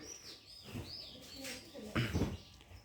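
Myna chicks, sold as pet birds in Bangladesh, give a few short, close chirps and squawky calls over a light background rustle, with louder bursts near the end.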